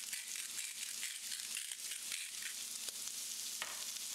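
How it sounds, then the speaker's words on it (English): Sea salt ground in a hand salt grinder in a home kitchen, giving a steady dry crunching and crackling texture with small grinding bursts, close and fairly quiet, with a faint sizzle of frying onions behind it and no talk. "I'm going to grind some sea salt"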